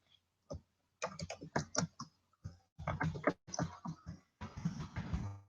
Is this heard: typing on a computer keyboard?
yes